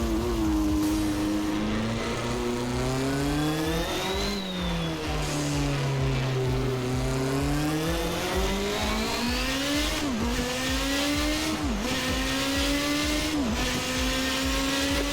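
Toleman T184 Formula 1 car in Assetto Corsa at Monaco, its turbocharged engine droning and revving steadily with rising and falling pitch through gear changes, loud and close with no talking.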